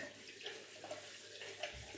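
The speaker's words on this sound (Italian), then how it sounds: "quindi ci vado a mettere dentro l'acqua" Water is poured into a bowl of hard shaving soap to soften it, making a soft continuous trickling splash, close but quiet, with no speech.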